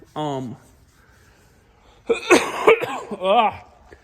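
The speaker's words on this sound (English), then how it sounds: "This is a nasty cough" A voice, then a rough burst of harsh coughing, followed by a brief vocal sound.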